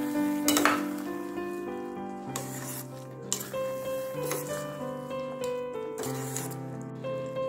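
Ghee being mixed into a papaya curry cooking in a pan, soft stirring and a gentle sizzle under a steady, prominent musical background.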